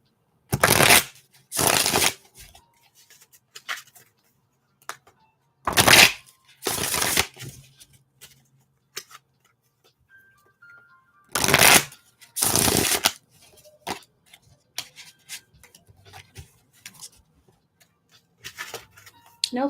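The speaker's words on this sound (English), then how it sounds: "I'm just going to shuffle and get the cards all together." A new deck of tarot cards is shuffled in several quick riffling bursts with quiet gaps, close to the microphone, alongside soft handling noises and faint talk.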